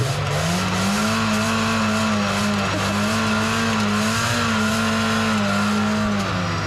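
A retro car with a holed, blown exhaust revs hard and steadily up close at a retro car meet, a loud raspy engine drone rising and falling slightly in pitch without any talk.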